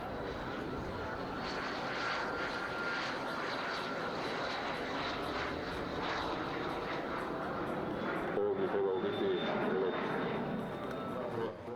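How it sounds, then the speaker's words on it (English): A Cessna 525A Citation CJ jet operated by Young Sky at an airshow in Varaždin, Croatia, its engine roar steady and fairly loud throughout, with crowd and commentary noise mixed in. "A Cessna 525A Citation operated by Young Sky."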